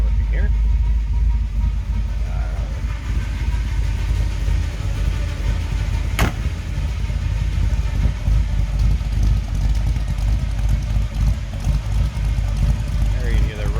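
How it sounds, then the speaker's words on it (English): A 1955 Chevrolet 210 wagon street rod with a big block engine idles with a deep, steady, loud rumble throughout, close and continuous, with a faint clicking transient partway through. "There you can hear the rumble coming out of that big block"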